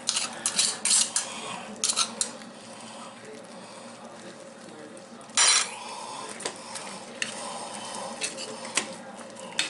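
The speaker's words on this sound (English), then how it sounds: "you can use a spoon to scrape this off here" A metal spoon scrapes homemade refried beans in a cooking pot, repeated clinks and rasping scrapes coming in uneven bursts, one louder scrape near the middle, close and clear with no talking.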